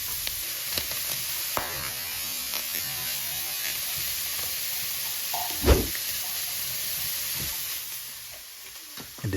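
Pre-cooked leftover ham sizzles steadily in a frying pan, a continuous hiss of fat with a few soft pops and one louder clatter near the middle, no one talking.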